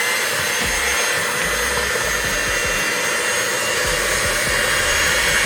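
An electric hand mixer's beaters whir through thick ginger cake batter, producing a loud, steady, close-up motor hum with a faint rumble of the beaters in the bowl.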